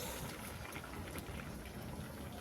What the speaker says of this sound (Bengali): বেশ কিছুক্ষণ ফুটেছে, দেখি কতটা হলো।